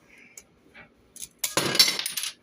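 A scored piece of stained glass is snapped apart by hand, giving a short crack and sharp clinking break after a few soft handling taps.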